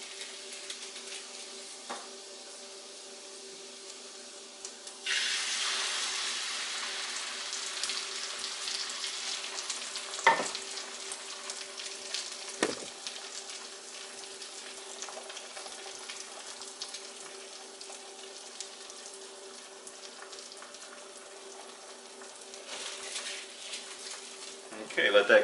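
Eggs cooking in a frying pan give a steady, soft sizzle through the clip, with a louder burst of frying partway in and a few brief knocks from the pan or utensil.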